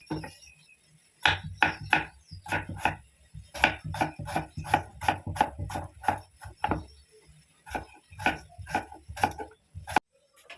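Steady knife chopping of potatoes on a cutting board, quick crisp strikes in a regular rhythm with brief pauses, close and clear, no voices.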